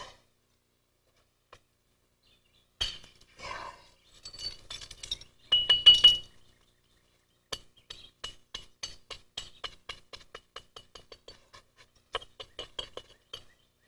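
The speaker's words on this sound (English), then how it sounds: "Grind a little more on that." The edge of a novaculite chert point is ground in a quiet setting, giving sparse, sharp scratchy clicks and short rasping strokes, with a brief louder cluster near the middle.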